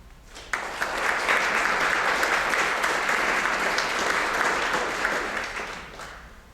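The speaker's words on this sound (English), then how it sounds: "Give a round of applause for all those people." Audience applause at a deliberative town meeting, starting abruptly and holding as steady moderate clapping from a room of people before tapering off at the end.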